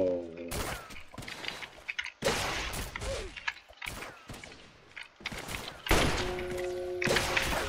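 Rapid bursts of gunfire from quick weapon swapping in a video game, loud crackling shots and shattering impacts repeating in clusters with short gaps, no talking.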